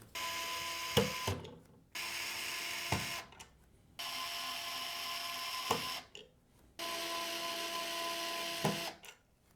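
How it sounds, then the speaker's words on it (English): Stock CPU cooler retention clip screws on a motherboard being backed out with an electric screwdriver, which whirs in three sustained bursts separated by brief pauses, close up with no talking. "the first step of installing is removing the stock clips, and they're held on with 2 screws on each side"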